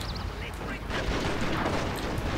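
Dense, continuous battlefield gunfire from the Shogun 2: Fall of the Samurai strategy game, volleys of musket and cannon shots blending into a loud, unbroken roar with no clear gaps.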